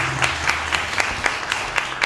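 Applause from a literary concert audience, a steady dense wash of clapping with regular sharper bursts throughout, moderately close and even in level.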